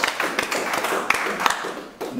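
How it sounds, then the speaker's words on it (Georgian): Applause from a crowd at a fight club face-to-face event, a brief burst of uneven, fairly close clapping with individual sharp claps standing out. "აპლოდისმენტები ვიტევს კიდევ ერთხელ"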